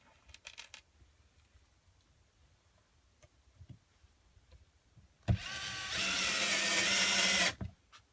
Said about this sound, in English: So I'm now going to put the screws in to this side.